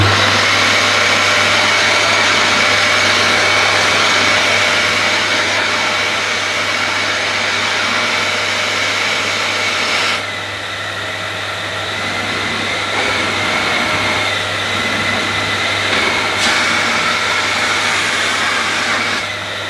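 A refurbished Dyson DC19 vacuum cleaner runs on its max setting with a steady, loud, close whine and airy roar, dipping slightly in pitch partway through as it is pushed.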